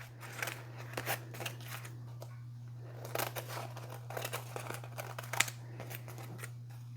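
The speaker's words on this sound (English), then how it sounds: "And I'm going to cut my napkin out." Scissors snip through a paper napkin for a decoupage craft, with repeated close cuts and light paper crinkling over a steady low electrical hum.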